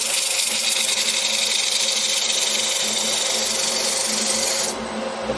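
Steady high-pitched whirring hiss of 80-grit sandpaper against a spinning green wood bowl on a lathe, loud and continuous, easing off near the end.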